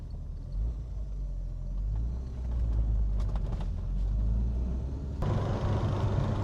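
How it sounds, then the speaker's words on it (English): A Volkswagen Golf MK2 GTI 16V with KR engine and custom exhaust rumbles low and steady while crawling in morning traffic, heard from inside the car, with a brief swell of engine drone near the end. "but means I can listen to the exhaust tone"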